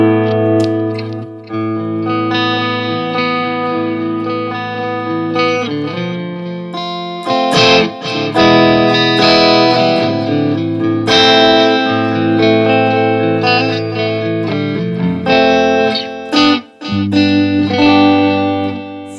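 Electric guitar played through a Marshall JVM 410H amp on its clean green channel, ringing sustained chords and arpeggiated notes with a clear tone, loud and up close, with no voices.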